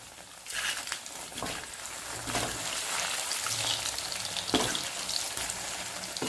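Crispy balls fry in hot oil, a steady dense sizzle with bright crackling and occasional stirring or turning sounds, close and continuous without any talk.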